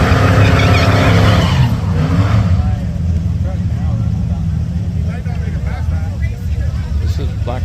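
A black 1980s or 1990s Chevy LUV truck doing a burnout in the burn box at a Coos Bay, Oregon drag strip, a loud roaring engine and tire noise that fades to a lower rumble, with someone talking over it.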